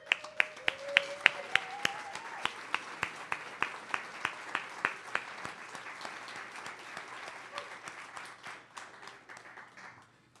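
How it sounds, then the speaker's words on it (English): Audience applause at a San Diego Peace Corps talk, fairly faint, with sharp individual claps standing out in an even rhythm over a softer bed of clapping throughout. "We want to give you a round of applause."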